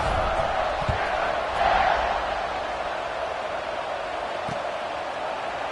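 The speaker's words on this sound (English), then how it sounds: "this crowd is buzzing after that last score" Stadium crowd noise from the College Football 25 video game, a steady broad roar that swells briefly near the start, with a couple of low thuds, without clear speech.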